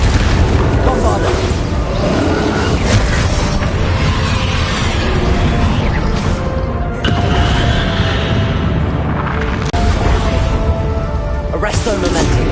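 Loud, dense booming blasts from the Bombarda explosion spell in Hogwarts Legacy, layered with rumbling combat effects and whooshes in a sustained, chaotic barrage that barely lets up.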